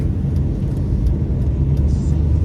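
Steady low engine and road rumble from inside a moving car, continuous and fairly loud with no distinct events, a constant drone throughout.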